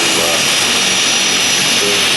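A first-generation jet fighter roars past at an air show, a loud, continuous wash of jet engine noise filling the whole stretch.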